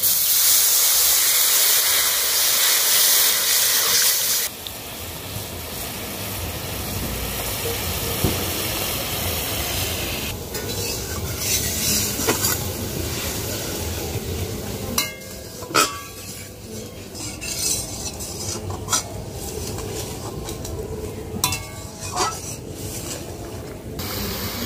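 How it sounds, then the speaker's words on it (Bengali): Water poured into hot oil with cumin and chili powder in a pan for a Bengali rohu fish curry: a loud hissing burst at first, then settling into a steady bubbling simmer with occasional utensil clinks, no talking. "এবার জল দিয়ে দেবো।"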